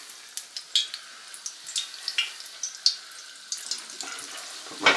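Biscuit donuts dropped into hot frying grease, giving a faint, steady crackle with scattered sharp pops and spits, no voices.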